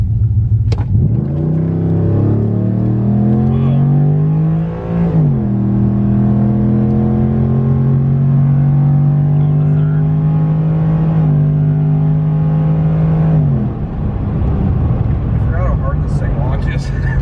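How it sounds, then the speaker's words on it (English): A pickup truck makes a hard four-wheel-drive launch with a Dodge 65RFE transmission and an FRP torque converter, its engine revving loud and climbing through several shifts before easing off. People talk over it. "Haven't 4-wheel drive launched in a while."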